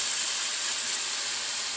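Bacon frying in a pan greased with cooking spray gives a steady, bright sizzling hiss that holds evenly from start to end, close and moderately loud, with no voices.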